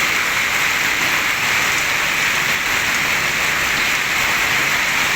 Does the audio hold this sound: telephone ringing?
no